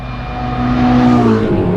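A Ferrari 488 GTB accelerates hard on the road, its engine note climbing loudly and smoothly in pitch, heard close and alone.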